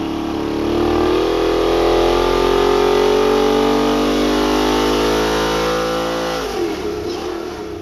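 An engine running a dyno test with fuel fed through a Fitch fuel catalyst holds a loud, steady high-rpm roar for several seconds, then drops off and winds down near the end.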